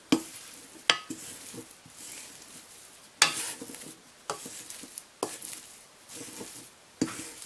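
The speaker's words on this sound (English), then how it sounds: "So take what you have, wooden spoon, spatula, go around the edges and release it from the sides." A wooden spoon scrapes around the sides of a pot to loosen very sticky no-knead jalapeno cheddar bread dough: close, rough scraping strokes broken by several sharp knocks of the spoon against the pot, with no talking.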